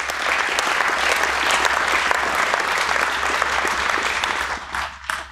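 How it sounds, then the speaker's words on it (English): Loud, dense audience applause at a talk by an F-117 Nighthawk pilot, continuous and even before tapering off in the final moments. "how about a round of applause for teamwork in the military?"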